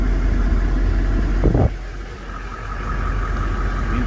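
A 2016 Toyota Landcruiser Workmate with about 50,000 km has its engine started: a brief cranking burst, then a steady low idle rumble close by.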